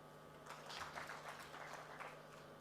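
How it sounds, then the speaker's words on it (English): Audience applause at the annual Uganda Communications Commission suppliers conference, a sustained wash of many hand claps from a crowd, moderately loud and steady for a few seconds with a faint hum underneath. "Now the hand claps have to be a bit louder for the next parts"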